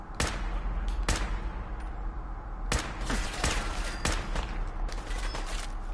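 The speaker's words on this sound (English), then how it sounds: "I'm hearing gunshots from upstairs" Gunfire echoes from an upper floor in the video game Fallout 4, set in Park Street Station: several sharp shots and short bursts crack out at irregular intervals over a constant low rumble of ambience.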